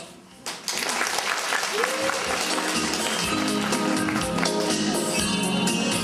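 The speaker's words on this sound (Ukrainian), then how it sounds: "Оплески для наших дівчат." An audience at a school beauty pageant applauds the girls, starting abruptly after a brief moment and continuing as a steady, close wash of clapping with scattered voices mixed in.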